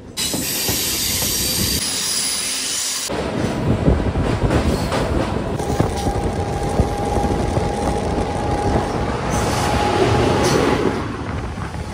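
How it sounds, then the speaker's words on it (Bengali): A local DEMU passenger train runs from Lataguri toward Siliguri, heard from on board with a loud, continuous rumble of wheels on rail, a high wheel squeal at the start and then a thinner sustained whine, with no one talking. "আমাদের ট্রেন এখন সোজা চলে যাচ্ছে শিলিগুড়ির দিকে"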